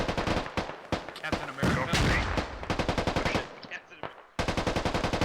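Rapid automatic rifle fire in the military shooter Squad, in sharp repeated bursts of close cracks with brief gaps and a heavier blast midway, while a voice speaks briefly under the shooting.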